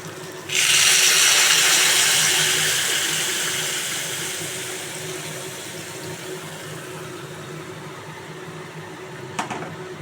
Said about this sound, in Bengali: আমি এবার গরম জল দিয়ে দেব